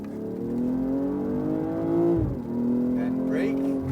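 A BMW M240i accelerates on the Dubai Autodrome track, its engine note rising steadily in pitch, dipping briefly at a shift, then climbing again, loud and close from inside the car.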